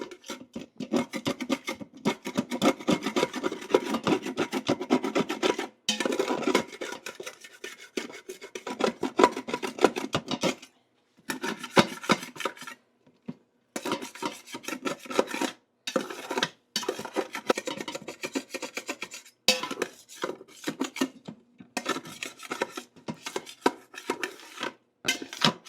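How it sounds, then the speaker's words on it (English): A utensil scrapes browned bits off the bottom of an Instant Pot during deglazing after cooking jerk pork, making repeated rasping scrapes in uneven bursts separated by short pauses, close and fairly clear. "to deglaze the pan, you want to get all the brown bits up off the bottom of the pan"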